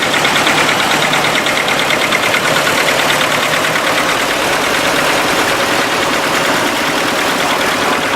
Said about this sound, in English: Okay, let's get the tractors parked up now.